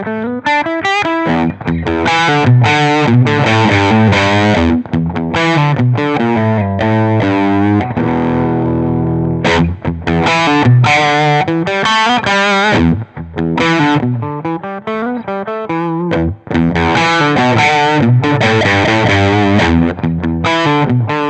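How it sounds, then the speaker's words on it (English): Electric guitar played through a Fulltone OCD overdrive pedal powered at 18 volts, thick distorted chords and riffs ringing loud and continuous with brief pauses between phrases. "Powering the OCD with 18 volts instead of 9 volts makes it a little bit louder"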